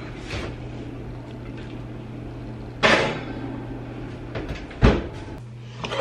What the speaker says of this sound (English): Now I'm going to pop this in the oven